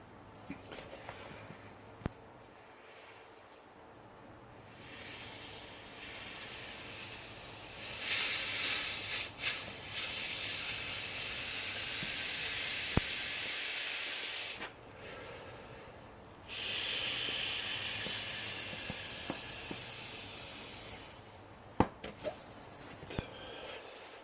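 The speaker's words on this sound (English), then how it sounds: "I'll blow it all the way up just so you can see." Breath blown into an inflatable camping pillow for budget backpacking, heard as two long, steady airy rushes of several seconds each, separated by pauses with soft clicks and handling noise, close up with no talking.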